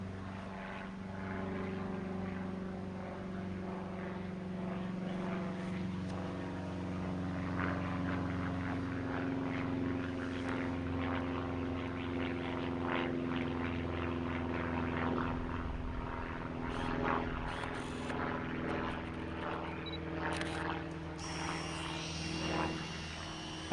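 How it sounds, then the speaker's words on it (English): A propeller airplane drones overhead outdoors on a windy day, a steady low engine hum with layered harmonics that holds throughout, fairly distant and even in level, with faint wind and small handling noises. "oh, there's an airplane."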